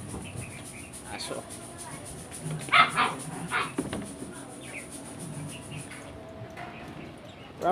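A dog barks and whimpers in short bursts among a few yips, mid-distance and fairly quiet, while people talk nearby and a faint steady high whine runs underneath.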